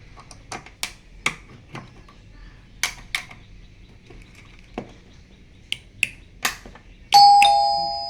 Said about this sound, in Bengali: আমাদের কলিং বেলটা চালু হয়েছে